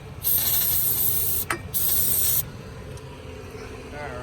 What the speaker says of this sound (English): after the scrub-a-dub-dub is getting jet cleaned by the carb cleaner, and this will make it a perfect surface to mat the head gasket down to